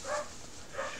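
A dog barks in the background, two short bursts near the start and end of a brief stretch, moderately loud over a steady room ambience.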